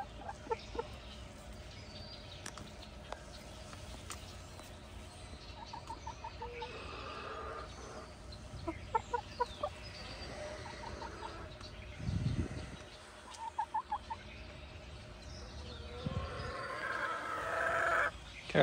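Backyard coop chickens clucking and squawking in scattered bursts, with short calls through the middle and a louder flurry of activity near the end, no talking over them.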